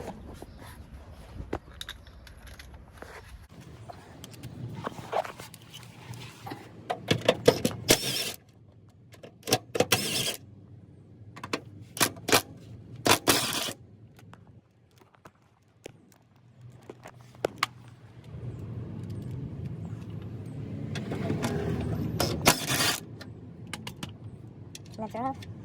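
Wrench work on 12mm bolts of a Lexus LS400 transmission bracket: scattered metallic clicks and ratcheting taps come in bursts near the microphone, with quieter handling noise and a brief voice in between.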